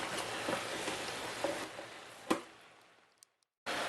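Ground beef browning in an Instant Pot Mini, a soft steady sizzle with scattered crackles and one sharp clink of a utensil against the pot, fading to near silence before a brief return.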